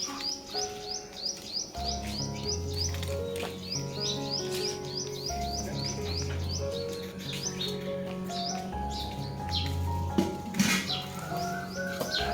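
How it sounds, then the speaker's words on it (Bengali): Birds chirp and call repeatedly over a steady low hum in a village, bright twittering notes scattered throughout at moderate distance. "পাখিতে ডাকছে আর কি আর পাখির ডাক কি সুন্দর লাগে"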